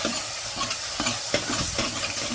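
Onions sizzling as they are tempered in a clay pot, giving a dense, steady hiss with a few soft stirring scrapes, close and with no voices.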